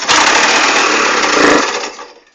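An Aerox/Nitro scooter engine starts right after a carburetor adjustment and runs in a loud, rough, buzzing blast for about two seconds before quickly dying away.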